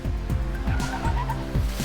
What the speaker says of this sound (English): Turn into the skid, foot off the brake.